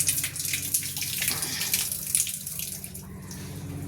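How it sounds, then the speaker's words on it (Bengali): Tap water runs steadily at an outdoor hand-washing station during rain, a continuous close splashing stream with no talk over it. "এখানে হাত ধোয়ার স্থান, হাত ধুয়ে তারপরে ভেতরে ঢুকবো।"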